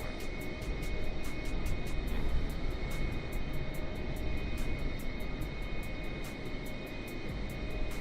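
Airplanes drone steadily and loudly as a broad, continuous engine roar with a faint, regular ticking layered on top, unbroken and with no voices.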